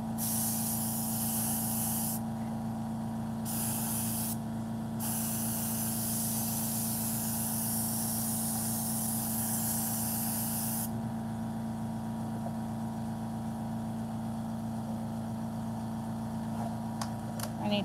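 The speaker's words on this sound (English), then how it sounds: "airbrush it." Airbrush spraying paint onto popsicle art hisses in a loud, continuous stream, cutting out briefly twice and then stopping, leaving a steady compressor hum behind.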